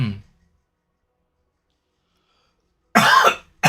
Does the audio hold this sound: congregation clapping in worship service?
no